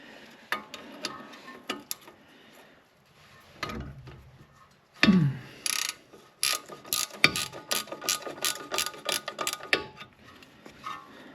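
A ratchet wrench turning a 17 mm caliper bracket bolt loose on a Subaru Forester, with clusters of sharp close clicks, a loud metallic crack as the bolt breaks free, then rapid ratcheting bursts.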